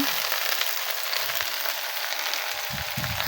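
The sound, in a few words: okra being fried in a pan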